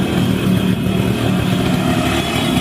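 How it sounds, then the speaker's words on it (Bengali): An old Yamaha motorcycle engine runs loud and close, a steady, rough idling rumble that holds throughout without pause. "দেখতে পাচ্ছেন গাড়িটা কিন্তু এখনও রানিং আছে"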